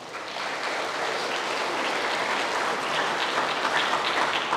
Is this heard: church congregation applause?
yes